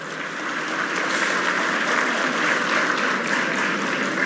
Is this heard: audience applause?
yes